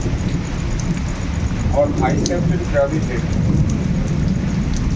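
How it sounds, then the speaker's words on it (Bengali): Heavy rain pouring down during a thunderstorm at a village house, a dense, loud, continuous hiss close by with low rumbling underneath and a brief chirping sound in the middle. "বাবা প্রচন্ড জোরে বৃষ্টি হচ্ছে"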